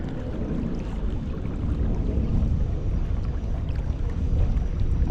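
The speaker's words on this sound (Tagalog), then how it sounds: "Malakas pa yung hangin." Strong wind buffets a fishing boat out at sea, a steady loud roaring rush that holds through the whole stretch, with water and hull noise mixed in and no voices over it.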